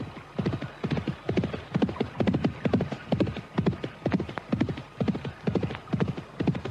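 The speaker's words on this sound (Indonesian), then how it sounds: "Anting Wulan terus saja berkuda menuju Bukit Tengkorak" Horse hooves clip-clop in a steady, even walking rhythm as a rider travels along, each footfall crisp and close with no voices over it.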